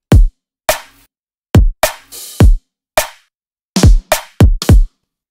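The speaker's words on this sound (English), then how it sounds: "The drums in themselves sound like this." Dry electronic drum pattern of punchy kicks and snappy snares from a remix production, about a dozen sharp hits in a syncopated rhythm with silence between them, loud and close.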